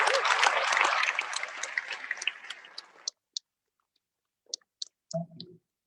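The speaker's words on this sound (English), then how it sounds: "please, a big applause for all the young volunteers globally" Applause for young volunteers at a plenary session rises from a crowd, loud and dense at first, then thins into scattered claps that trail off into silence with a few last isolated claps.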